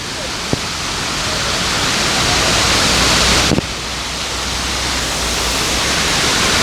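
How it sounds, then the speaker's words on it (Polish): Steady, loud broadband roar of an Australian waterfall, a continuous rushing wash of falling water heard close and alone, with one brief sharp knock part way through. "spróbuję Wam pokazać ten fajny wodospad, o którym mówiłem"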